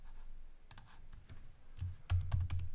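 Several crisp keyboard keystrokes on a computer keyboard, close and fairly quiet, tapped in short irregular clusters with brief pauses and a final flurry of quicker clicks; no talking.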